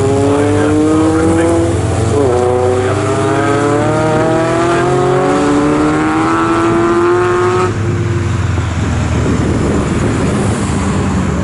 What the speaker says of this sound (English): Here's the leader, the yellow car. Number 17 and Paul Boyd coming through Coram Corner now